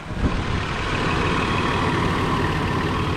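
A 1995 Nissan Pathfinder 4x4 SE engine idling, giving a steady, smooth low hum with a faint broadband hiss that holds level throughout, with no revving or talk.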